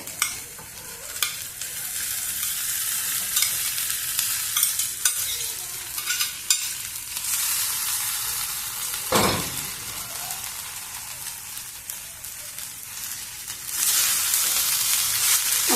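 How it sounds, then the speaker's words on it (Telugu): Rice is stirred into a hot lemon rice tempering in a pan, sizzling steadily close up while a spatula scrapes and clinks in irregular strokes, one louder scrape standing out, no talking. "అంతా బాగా కలుపుకున్నాము"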